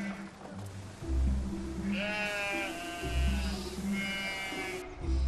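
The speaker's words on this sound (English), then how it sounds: "The shepherds herd their goats to the mountains to graze," Goats in a mountain pasture in northern Fujian bleat in several loud, wavering calls, close by and overlapping, over a low rumbling background.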